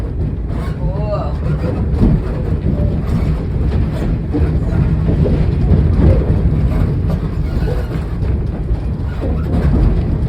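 A Strasburg Rail Road train rolls into the East Strasburg station with a continuous loud, rumbling run and clatter, while a public-address announcement and nearby talk carry over it.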